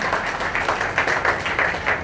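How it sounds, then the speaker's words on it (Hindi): Children clap loudly together at a gathering in Surat, Gujarat: a fast, rhythmic patter of many small hands rising in brief surges, close and steady throughout. "एक बार बच्चे बच्ची लोग जोरदार ताली बजा दीजिए"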